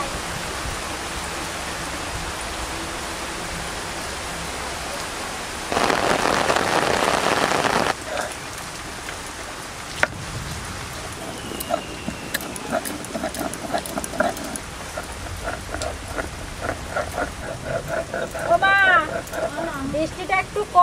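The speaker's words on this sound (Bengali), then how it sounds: "বৃষ্টিটা একটু কমছে" Steady rain falls on surfaces outdoors, a continuous hiss with a heavier downpour burst partway through, then easing while people talk over it.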